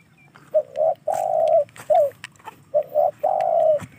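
An uncal cuckoo-dove coos close by in repeated low, hollow bursts, some short and some drawn out, with quiet pauses between and no talking.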